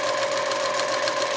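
A sewing machine stitches the second side of a seamless dolman blouse in slightly stretchy fabric, giving off a steady, close, continuous mechanical hum with no talking.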